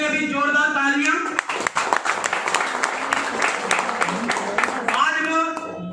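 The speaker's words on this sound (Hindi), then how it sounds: "सुमंतो डे सर, तो उनके लिए भी जोरदार तालियां।" Enthusiastic crowd applause at a Hindi business gathering, a steady wash of many hands clapping for several seconds, with a speaker's voice heard before and after it.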